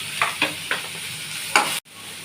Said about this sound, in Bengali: পেঁপেগুলো দিয়ে একটু নাড়বো।